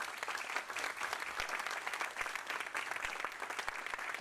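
Audience applause for Gabriel, a speaker at a talk on nitrogen uptake and biological nitrogen fixation in soybeans, a steady dense clapping from a room of listeners lasting about four seconds.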